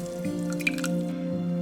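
Excess liquid from spruce tip syrup drips steadily through a strainer, producing close, wet drips and trickles over a faint continuous hum, with no talking.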